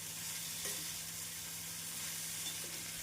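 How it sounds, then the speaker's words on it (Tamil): Chopped onion and garlic sauté in a pan for a tomato-onion chutney, giving a soft, steady sizzle with occasional faint stirring, heard alone and fairly quiet. "வெங்காயம் பூண்டு நன்றாக வதங்கி வரவும் நறுக்கிய தக்காளியை சேர்த்து விடலாம்."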